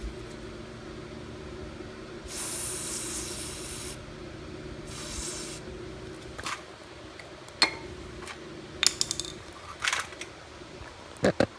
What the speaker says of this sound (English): Let me spray this down.